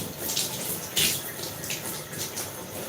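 Running water splashes and trickles steadily, close and fairly loud, with brighter bursts of spray like a tap or poured stream hitting a basin to imitate rainfall.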